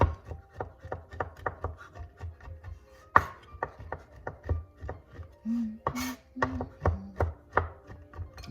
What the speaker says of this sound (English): I'm gonna just chop this up a little bit.